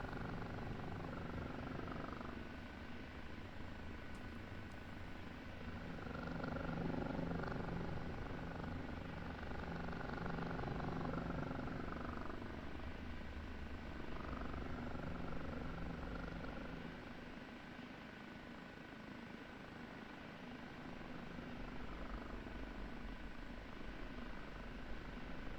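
Kiowa helicopter in the DCS flight simulator, flying around Kandahar airbase, with a continuous rotor and turbine drone that stays steady and loud throughout and slowly swells and eases, with no voices.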